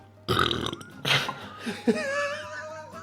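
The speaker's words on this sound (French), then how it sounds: "C'est la vidéo où j'aurais le plus roté." Loud, close burping after tasting hot sauce, a long drawn-out belch followed by shorter ones, mixed with a bit of laughter and voice.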